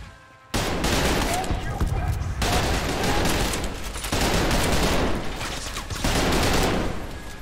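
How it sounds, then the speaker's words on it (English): Heavy shotgun gunfire in the first-person shooter Trepang2, packed into three long, loud bursts of rapid, overlapping blasts separated by brief lulls, close and dominant over everything else. "they all got shotguns"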